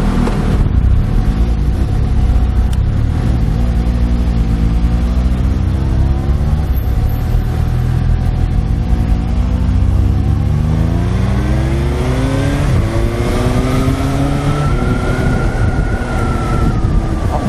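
Suzuki GSX-S750 motorcycle with a Rapid Bike fuel computer and quick shifter accelerating hard, engine pitch climbing and dropping in repeated rising sweeps as each gear shifts quickly, loud and continuous with wind noise, no talking.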